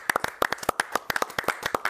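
A studio crew claps at a farewell for a football results show presenter, a brisk run of sharp, close handclaps from a few people, fast and slightly uneven.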